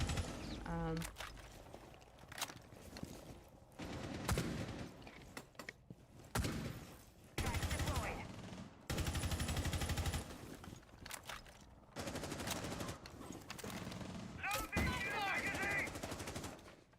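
Rainbow Six Siege match with bursts of automatic gunfire and single shots in rapid clusters, loud and close, separated by short gaps of quieter mechanical movement and game noise.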